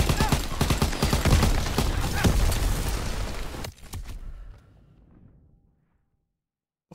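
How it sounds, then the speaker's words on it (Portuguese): A grenade blast and dense gunfire from the video game Call of Duty WWII, loud and sustained, with rattling bursts and booms that cut off abruptly and fade to a short low rumble before near silence. "Granada!"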